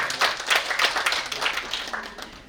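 Applause from an audience at a college anniversary book-release ceremony, a steady wash of many hands clapping at moderate distance with no talk over it.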